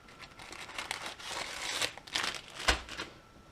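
A packet crinkles and rustles close by as contents are pushed back inside, a soft, continuous crumpling with a sharper crackle near the end.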